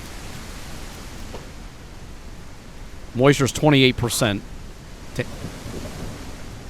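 Rain falls in the survival game No One Survived as a steady, even hiss that runs throughout, with a short spoken phrase heard over it midway.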